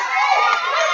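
Crowd cheering at a high school wrestling match in a ballroom, a dense, loud roar of shouting voices holding steady for the whole moment.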